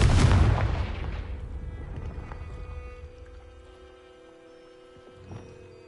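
A blasting-spell explosion from Hogwarts Legacy: one loud, deep boom that decays over a few seconds into a low rumble, followed by a faint thud.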